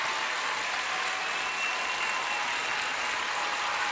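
A packed arena audience at a rhythmic gymnastics World Cup gives a standing ovation, a dense, sustained roar of clapping that stays loud and unbroken throughout.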